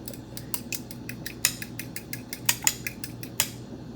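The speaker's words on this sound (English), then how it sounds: "You want to beat the eggs. I'm going to beat them just like that." Eggs are beaten with a utensil in a bowl, a quick series of sharp clicking taps that come in an irregular rhythm and ring close and crisp.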